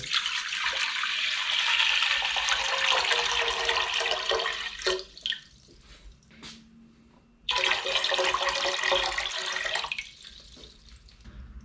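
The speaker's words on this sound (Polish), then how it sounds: "Pora to wszystko wrzucić do gara, czyli 3 litry wody." Tap water gushes into a cooking pot for borscht with a loud rushing flow, briefly stops and trickles, then resumes strongly.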